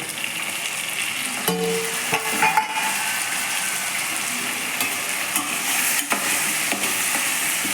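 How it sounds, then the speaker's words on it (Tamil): Onions and tomatoes sautéing in a pan for egg tamarind curry, a continuous close sizzle with a few faint utensil clinks and scrapes, no voices. "தக்காளி போட்டு மூடி விட்டு வதக்கணும்"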